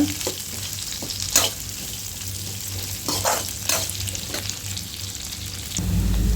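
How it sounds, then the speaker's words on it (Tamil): Sliced onions sautéing in oil for a Tamil sardine (mathi meen) fish curry, a steady close sizzle and frying hiss with a few louder scraping stirs, no talk. "சேர்த்துட்டு நல்லா வெங்காயம் வந்து நல்லா பொன்னிறமாக வரணும், அந்த அளவுக்கு நல்லா வணக்கிக்கோங்க"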